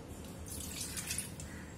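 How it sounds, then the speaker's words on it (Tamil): Water is poured from a tumbler into a pan to cook sprouted ragi (finger millet) malt porridge, a short, soft splashing trickle lasting about a second. "அதனால 2 டம்ளர் தண்ணி மட்டும் அளந்து ஊற்றிக்கலாம்"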